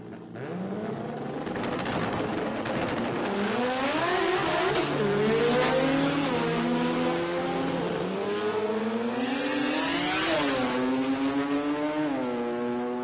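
A Mazda 1300 drag car with a 12A rotary engine races down the strip at a drag racing event, a loud, high-pitched engine wail climbing through several gear changes with tire noise and no talk.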